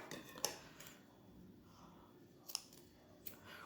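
Scissors snip crochet thread while making an apron-shaped crochet cover for a 100 ml sweetener bottle, a few short, sharp clicks spaced apart in a quiet room.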